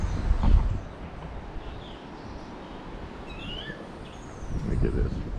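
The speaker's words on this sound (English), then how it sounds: "Wake up every morning to all these birds chirping." Morning birdsong in Panama, a few chirps and short whistled calls heard at a moderate distance over steady outdoor background noise.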